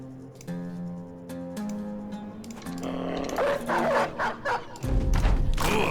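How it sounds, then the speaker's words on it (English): A small dog barks loudly in a rapid burst of sharp yips near the microphone, over a background of sustained musical tones, ending with a louder thump-like noise. "don't know how well the dog barking comes through on the microphone, but he's barking very loudly"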